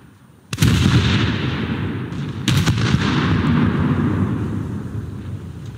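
Secondary guns aboard the German cruiser Leipzig fire in War Thunder with two loud, close booms a couple of seconds apart, each followed by a long rumbling roar that slowly fades.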